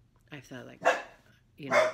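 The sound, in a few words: dog barking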